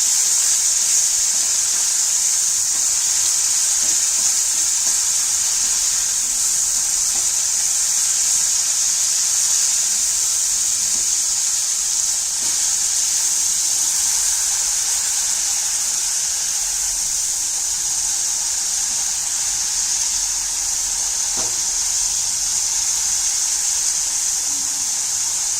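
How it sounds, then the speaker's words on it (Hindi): Onion paste frying in a pan for Gujarati chapdi undhiyu, a steady, even hiss running close and unbroken throughout with no talk. "अब 2 प्याज की पेस्ट है, इसे थोड़ा सा भून लें।"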